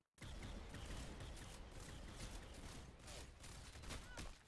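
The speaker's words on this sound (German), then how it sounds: "Ich schieße die ganze Zeit und treffe den nicht" Rapid, dense gunfire from a sniper rifle in the Roblox video game, a near-continuous loud volley of shots lasting several seconds with only a brief dip partway through.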